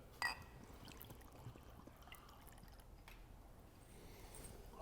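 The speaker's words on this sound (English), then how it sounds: "Let's give you a good size pour." Old Ezra bourbon poured into a glass, a soft, faint trickle and glug of liquid lasting a few seconds at close range with a quiet background.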